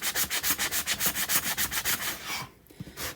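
Rapid, even back-and-forth sanding rubs over a surface coated in chalk paste paint, distressing it for an aged look, about a dozen close strokes in quick rhythm, then a brief pause and a few lighter scrapes.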